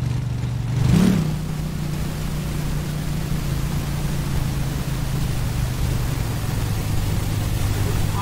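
A video game car, the Wolf, with an inline-six engine gives a steady, loud, low engine drone under broad noise, with a short swell near the start and no talk.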